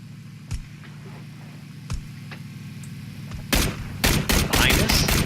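Gunshots ring out in a game firefight, a few isolated cracks followed by a rapid burst of loud, closely spaced shots near the end.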